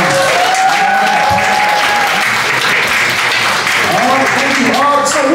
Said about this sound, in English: Can you please give a round of applause for UKNPL right now?